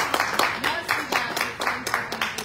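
Audience applauding the singer at a shop partner event, a dense mid-distance wash of clapping with rhythmic surges, mixed with some voices.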